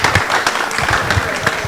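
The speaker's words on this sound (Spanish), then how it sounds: "un aplauso para ustedes" An audience claps steadily through a whole short stretch at a course presentation, a dense, loud wash of applause with no speech over it.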